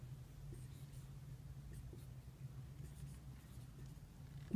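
Chalk or marker scratches across a board during a math lesson, soft and intermittent over a steady low room hum, with no talking.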